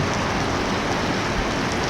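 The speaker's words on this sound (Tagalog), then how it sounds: "kahit na ulan Ulan lang naman yan, wala namang alon." Heavy rain falling during a boat trip makes a steady, loud, even hiss that fills the whole moment without letup.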